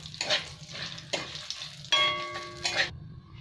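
Whole spices, green chilli, cumin and coriander powder, turmeric and Kashmiri chilli sizzling in hot oil in a pan for Bengali khichudi, with bursts of crackling and stirring scrapes separated by brief pauses and a faint metallic ring near the end.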